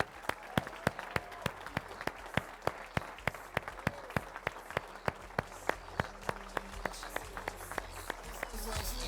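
A comedy club audience applauds a comedian at an anniversary celebration, with sharp, regular claps in a fast rhythm and a murmur of voices beneath.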